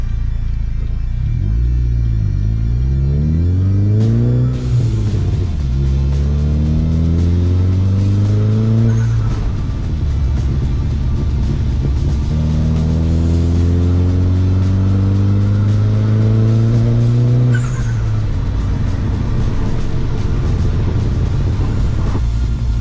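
A loud four-cylinder Chevrolet HHR SS engine revs up repeatedly on a dyno through climbing pitches, roaring close by, with a pause and rumble between two long pulls.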